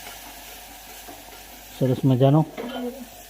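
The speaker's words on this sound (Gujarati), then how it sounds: "વઘાર કરી દીધો ડુંગળી, મરચાં અને બટેકાનો" Onion, chillies and potatoes frying in hot cumin and cinnamon tempering for Gujarati khichdi, a soft continuous sizzle in the pan, with a voice speaking briefly over it.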